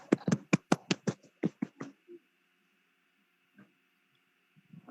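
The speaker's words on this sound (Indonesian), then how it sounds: "Tepuk tangan dulu." Students in a classroom clap in a quick burst of about a dozen sharp claps over two seconds, then fall quiet with only a couple of faint taps afterward.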